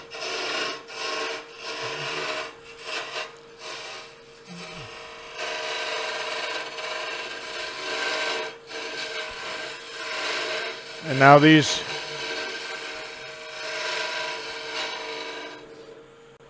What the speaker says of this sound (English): Let's get some of this waste wood out from behind first.